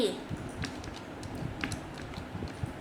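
Someone types on a computer keyboard, entering payroll data, in light irregular clicks and taps close by, with faint room sound and nobody speaking.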